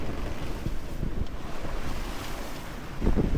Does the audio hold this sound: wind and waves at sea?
yes